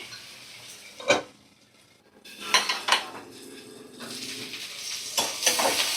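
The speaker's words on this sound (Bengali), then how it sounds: "পেঁয়াজটাকে আমি ভালো করে ভাজা করে নেব" Sliced onions fry in a pan while a utensil stirs them, with a soft sizzle and several sharp metallic clanks of spoon against pan, close and moderately loud.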